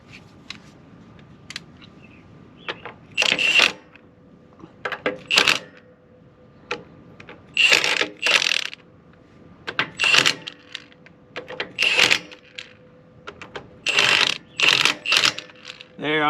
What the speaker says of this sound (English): Now I'm going to take my impact driver, and I'm gonna set it on its lowest power setting